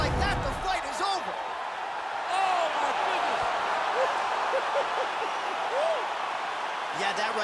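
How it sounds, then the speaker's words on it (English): A game-simulated arena crowd roars after a knockout in UFC 4, a steady broad wash of cheering and whoops sustained throughout, with a voice talking over it at the start and end. "Crowd absolutely loving it."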